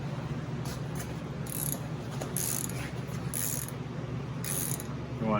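Ratcheting wrench spinning a nut down onto a lock washer while installing the camshaft of a 1947 Farmall A tractor, with quick bursts of clicking ratchet spins over a steady low mechanical background hum.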